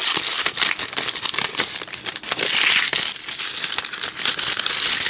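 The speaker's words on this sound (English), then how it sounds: "Now I'm going to open my envelope." A paper envelope holding lottery tickets is torn open and handled at close range, giving a continuous rustling and crinkling with sharp tearing bursts and no speech.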